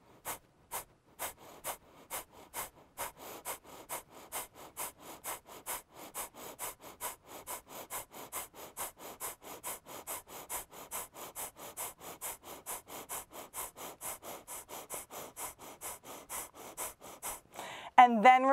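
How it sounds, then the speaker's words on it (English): Kapalabhati yoga breathing: a long run of short, sharp nasal exhalations, steady and rhythmic at about two per second, close and clear, ending with a deeper breath. "we're going to take short, fast exhalations through the nose, pumping the belly back."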